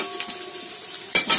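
A spatula stirs bottle gourd leaf paste as it fries in a pan until reddish. A soft steady sizzle carries through, then louder scraping bursts come near the end.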